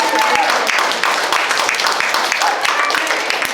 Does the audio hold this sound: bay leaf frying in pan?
no